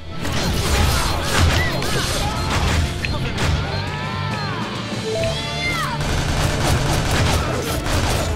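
A busy burst of crashes, booms and rapid bangs from a bomb exploding in the Shank 2 video game. The din is loud and dense throughout, with a bed of game music and effects underneath.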